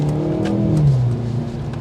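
A car with a performance steering wheel and switchable driving modes revs up close as it accelerates through traffic, its engine note climbing and holding steady for a couple of seconds.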